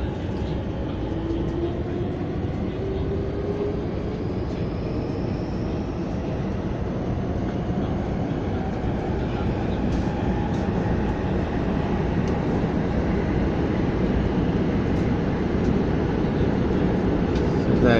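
Inside a Taoyuan Airport MRT express train, a steady low rumble of the carriage slowly pulling out, with a faint rising motor whine and occasional soft voices over it.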